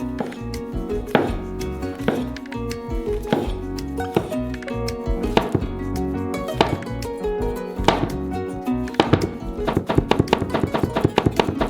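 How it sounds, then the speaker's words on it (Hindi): Steady knife chopping mushrooms on a board, quick repeated thuds with a few brief pauses, close and clear with no talking. "जबकि ये गर्म हो रहा है, हम मशरूम्स को काटेंगे।"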